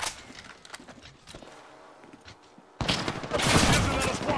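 Gunfire in a squad-based online shooter game: scattered faint shots and clatter at first, then a sudden loud, dense fusillade of rapid shots that continues to the end, with no talking.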